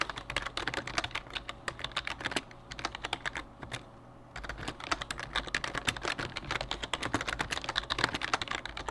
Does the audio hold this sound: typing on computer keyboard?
yes